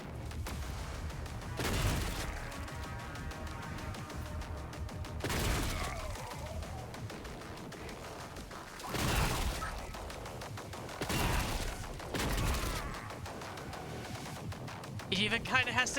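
Shotgun blasts in DOOM: The Dark Ages, five heavy booming shots spaced a few seconds apart over a busy game backdrop, with someone talking excitedly throughout.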